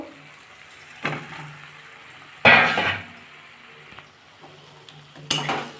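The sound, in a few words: fried potatoes added and stirred into tomato masala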